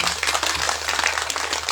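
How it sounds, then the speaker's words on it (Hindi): Audience at a Bhagwat Katha religious gathering in Gurugram, Haryana claps to welcome donors, giving a dense, steady burst of applause with no talking. "जोरदार ताली बजाकर आप स्वागत करें।"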